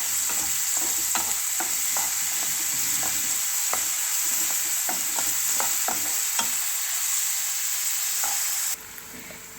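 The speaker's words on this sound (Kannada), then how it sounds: "ಸಣ್ಣಗೆ ಹೆಚ್ಚಿಕೊಂಡಂತಹ ಹಸಿಮೆಣಸಿನಕಾಯನ್ನು ಸೇರ್ಕೊಳ್ತಾ ಇದ್ದೀನಿ ಇದನ್ನು ಸ್ವಲ್ಪ ಫ್ರೈ ಮಾಡ್ಕೋಬೇಕು" Finely chopped green chillies and onion fry in a hot tempering for Kollegala kadubu, with a constant sizzle and a string of sharp spoon taps and scrapes against the pan as they are stirred.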